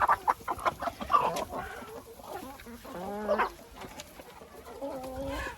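A group of laying hens in a poultry yard clucks and murmurs nearby at moderate volume, with overlapping short calls and occasional louder squawks.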